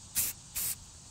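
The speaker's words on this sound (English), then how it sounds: "we wanna spray 3 light and even coats working all the way around the PVC coupler" Spray paint can laying a flat black coat onto a PVC coupler, two short, loud aerosol hisses close by, each lasting a fraction of a second, separated by a brief pause.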